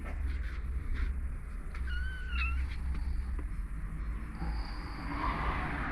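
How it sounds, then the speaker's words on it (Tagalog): A pet cat meows once in a brief rising-falling call outdoors in a backyard vegetable garden in Lebanon, heard at moderate distance over steady low background rumble. "Sunod ang pusa ko."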